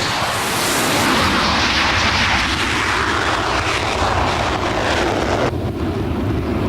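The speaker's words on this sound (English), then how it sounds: "The tower clears number 3 for takeoff." Test aircraft engines roar loudly and steadily throughout a takeoff, a broad, sustained engine rush with wind noise, staying strong and continuous from start to finish.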